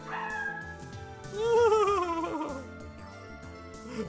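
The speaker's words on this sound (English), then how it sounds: "You just wanted to howl." Pippi, a dog in the Ever17 video game, gives a drawn-out, wavering howl that climbs and then slides down, over a soft melodic music bed, with a short yip near the end.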